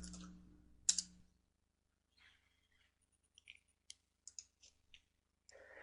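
Computer keyboard keys clicking in short, scattered bursts while a MATLAB script is typed, near and fairly quiet, with gaps of silence between keystrokes.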